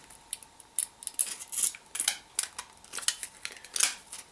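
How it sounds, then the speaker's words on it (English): Scissors snip through a thin aluminum soda can along a marked line, a steady run of sharp, crisp metallic cuts up close with no talking. "we're going to take our scissors and we're going to cut right on the line"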